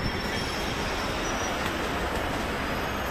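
A train rolling along the rails in India, with a steady loud rumble and faint wheel squeal throughout from on board.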